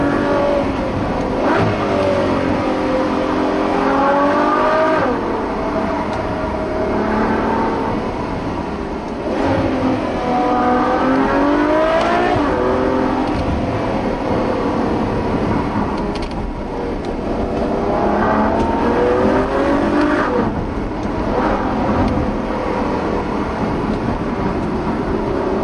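A Ferrari FF surges through repeated hard accelerations, its engine climbing loudly through several gear pulls with brief dips at each shift, close and powerful across the whole run.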